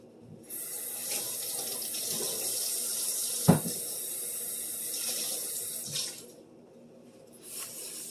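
Tap water runs steadily into a kitchen sink with a hissing splash while washing dishes, interrupted by one sharp clunk midway, then the flow eases and briefly returns near the end.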